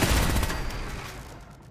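A Fallout 4 turret opens fire with a short, loud burst of rapid shots that quickly decays into a fading rumble.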